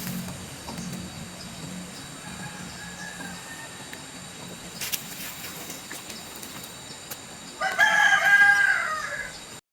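Out in a dry land ecosystem, a rooster crows loudly near the end while chickens cluck faintly beneath a steady outdoor background hum.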